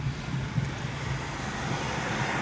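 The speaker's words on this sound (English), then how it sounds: "Man, I got cars come up behind me so fast." Road traffic on a street in McKeesport, Pennsylvania, passes close by in a steady broadband rush with low rumble, cars approaching quickly from behind, no voices present.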